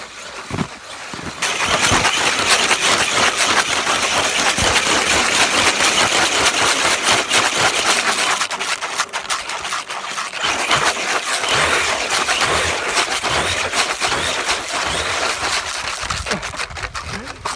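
An Arrma Kraton EXB RC car's motor whirs loudly as its wheels spin on icy snow, a sustained buzzing drone with speech over it.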